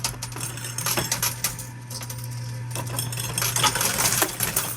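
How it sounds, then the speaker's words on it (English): Coins clatter and drop in a coin pusher arcade machine, a close series of metallic jingles and clinks in irregular bursts over a steady low mechanical hum. "Because coins in a coin pusher flow like water."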